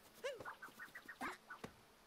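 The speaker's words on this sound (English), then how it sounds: "What's this bird? I've never messed with a bird." A bird in Super Mario Odyssey, in the Mushroom Kingdom at Peach's Castle, gives a quick run of nasal, duck-like quacks. The calls come in a rapid irregular series, clear but fairly quiet.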